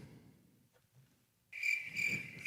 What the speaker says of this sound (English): Yeah, we totally have crickets.